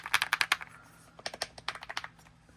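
Typing on an AULA F99 wireless mechanical keyboard, quick bursts of crisp, close key clacks, a fast run of strokes, a pause, then more clustered keystrokes.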